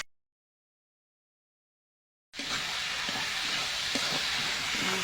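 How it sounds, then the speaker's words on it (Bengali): Cabbage greens and ash gourd fry in a pan while being stirred, a steady loud sizzle that begins suddenly after silence and continues with occasional scraping clicks. "আমি এটা নাড়াচাড়া করে ভেজে নেব।"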